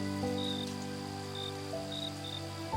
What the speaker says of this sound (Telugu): ఈ టైంలో ఈ వర్షం ఏంటి?